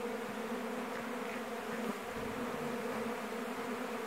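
Honey bees buzz steadily inside a beekeeper's honey extraction workshop, a dense continuous hum from many insects, fairly faint and even, with no voices.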